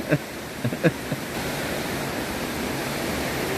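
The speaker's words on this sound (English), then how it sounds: "Now we're sitting up here by the waterfall." Steady, broadband rushing of a waterfall fills the scene from start to finish, with a few brief knocks and clatters near the beginning, in Komolac near Dubrovnik, Croatia.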